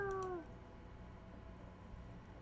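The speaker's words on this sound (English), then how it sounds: "do you guys hear this cat?" A single cat's meow, close and clear with a falling pitch, lasts under half a second at the start, followed by quiet room noise.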